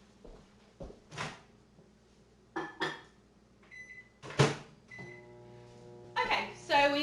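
A microwave oven with a cake inside, handled in a home kitchen: door and cupboard clunks, beeps and a closing latch, then the oven starts with a steady hum and faint beeping tones near the end.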